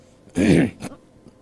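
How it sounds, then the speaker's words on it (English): A man gives one harsh, rasping throat-clearing cough, followed by a shorter second cough, loud and close in a quiet room. "Sorry, I was just coughing there."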